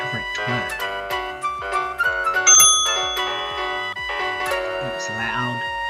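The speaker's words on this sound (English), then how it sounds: "There's also the sound for when they get a correct word." A bright reward chime for a correct word in a children's word game: a quick run of ringing, bell-like tones over a light bouncy backing, with a high sparkling flourish in the middle.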